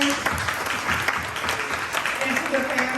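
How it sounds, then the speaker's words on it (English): An audience gives a round of applause for graduating seniors and their families at a ceremony, sustained crowd clapping with some voices and cheers mixed in throughout. "Can we give another round of applause to all of our seniors"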